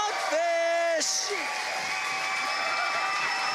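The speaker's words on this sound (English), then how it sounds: "Round of applause." Crowd applause and cheering at a robot combat competition prize presentation, a steady broadband roar that swells after a brief voice at the start and holds on under a high sustained tone.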